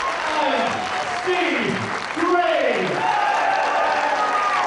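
Crowd applause for professional wrestlers after a bout, a steady wash of clapping running under an excited commentator's voice throughout.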